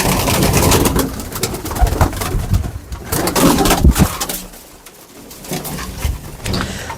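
Kamagar and Teddy pigeons coo in a loud, busy outdoor loft, the throaty calls layered over heavy rustling and clattering noise.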